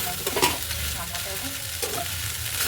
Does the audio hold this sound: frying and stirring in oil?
yes